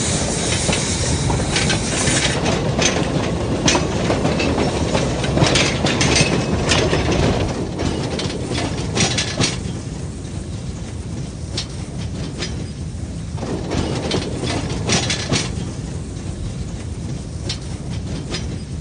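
Narrow-gauge locomotive hauling wagons along rails near Comandău, a continuous clattering and grinding rumble with ratcheting metallic clicks and hiss, loud at first and easing slightly as it runs on.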